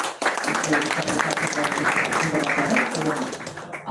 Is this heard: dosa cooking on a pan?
no